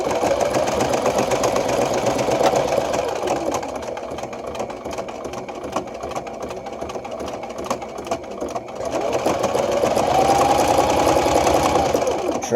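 Sewing machine stitching two fabric panels together, a steady mechanical whir running loud and close through the whole stretch, slowing and easing in the middle before picking back up.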